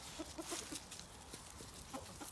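Chickens cluck in short, soft repeated bursts at a low level against a faint, noisy background, with no talking.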